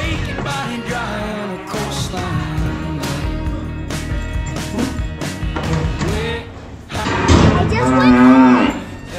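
Cattle moo loudly and repeatedly at close range during a farm weighing session, with a long sustained bellow near the end over a busy background of thumps and shuffling.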